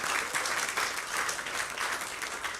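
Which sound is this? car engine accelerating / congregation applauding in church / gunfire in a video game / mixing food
congregation applauding in church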